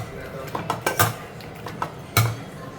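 Cooked lentils are mashed in a metal pot, giving a few irregular knocks and clinks of the masher against the pot, close and moderately loud over a quiet room.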